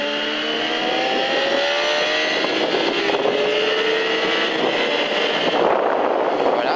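A car accelerates out of a corner on a racing track, its engine note rising steadily in pitch, loud and close throughout, with a brief dip near the end.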